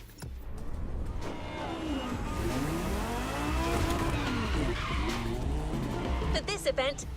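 Toyota Supra drifting around a lighthouse in The Crew Motorfest racing game, a loud engine roar with long wavering tire squeals throughout, under game narration.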